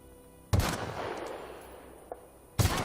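Gunfire in the sci-fi shooter game The Outer Worlds: two loud, sharp shots about two seconds apart, each with a booming decay, with no talk over them.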